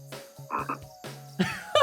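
A red, black-spotted strawberry poison frog croaks in a quick series of short, buzzy calls, about four or five in under two seconds, close and clear with no voices.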